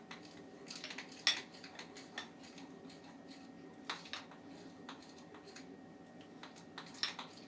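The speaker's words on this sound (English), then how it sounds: "And you just keep mixing it until you get a bright blue color." A utensil stirs blue-dyed cupcake frosting in a bowl, giving quiet, irregular clinks and taps against the bowl's side with one sharper knock near the start. The scraping is soft and close, with no talk.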